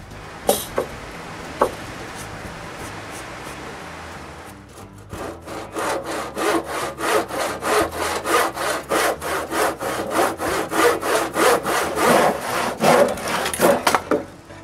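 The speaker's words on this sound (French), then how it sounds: "Je peux enfin couper les 2 bouts droits." A hand saw cuts the two ends of a workbench board straight in steady back-and-forth strokes, loud and close, after a few scattered knocks at the start.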